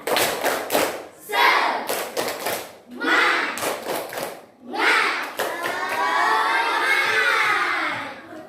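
Schoolchildren in a classroom perform a rhythmic spirit clap led by their teacher; bursts of patterned clapping alternate with chanted group voices, ending in a long shouted cheer, loud and close.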